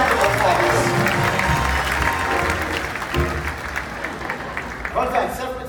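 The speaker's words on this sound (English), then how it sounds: "Give them both a huge round of applause." An audience at a live show in Hollywood, Los Angeles applauds Ted and Eric, a loud, sustained crowd roar of clapping that thins slightly toward the end, mixed with voices and some tonal sound over it.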